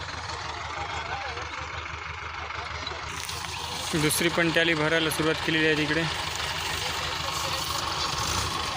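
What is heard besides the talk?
tractor engines idling while pushing a stuck sugarcane trolley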